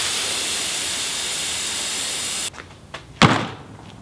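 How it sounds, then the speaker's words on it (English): An aerosol can of brake cleaner sprays a long, steady, loud hiss onto a grimy Honda Metropolitan scooter carburetor. The spray stops abruptly, followed by a couple of short clunks and a brief final spurt. "And just some brake clean. So we need to hose it down a little bit because it's real grimy."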